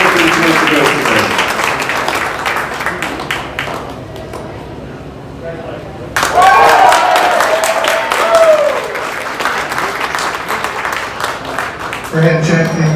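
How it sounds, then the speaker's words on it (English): Applause for the champions at an annual goat show: a burst of many hands clapping at the start, fading out, then a voice talking over the hall, with more scattered clapping and noise returning near the end. "Let's give them all a big round of applause."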